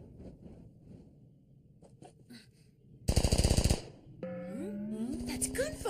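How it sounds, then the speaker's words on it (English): A rapid burst of 7.62 millimeter automatic gunfire in an anime lasting under a second, loud and close, after quieter shuffling noises and followed by a voice speaking. "That's gunfire."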